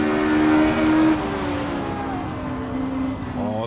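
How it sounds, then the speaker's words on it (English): A Ferrari 330 race car engine in a 1960s sports car racing video game at Riverside, a steady droning engine note that drops in pitch as it shifts, then rises again near the end. "Oh, the Ferrari 330."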